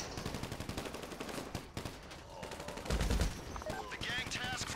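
Bursts of automatic gunfire in a GTA 5 Online gang shootout against Vagos, loud rapid repeated shots over a busy game mix with a boom near the middle.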